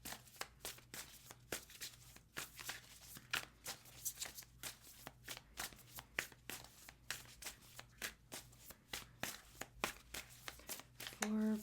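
Tarot cards are shuffled by hand in a quick, steady run of crisp riffling and flicking bursts, close and fairly quiet, with a faint low hum underneath.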